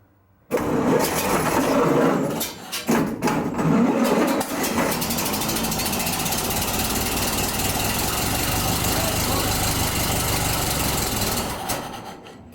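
A 1930 Ford Model A pickup engine, off the road since 1986, cranks over, catches and settles into a loud steady run close by, continuing for about ten seconds before cutting off.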